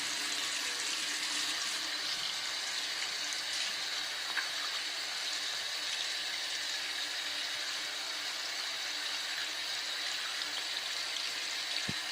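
Steady running tap water pours into a sink during handwashing, a continuous even hiss lasting throughout at close range, with no talking.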